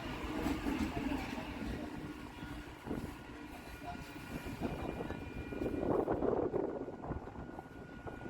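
A Kolkata circular rail local train rolls into Patipukur station just past a road bridge, a steady low rumble with faint intermittent clatter at moderate distance.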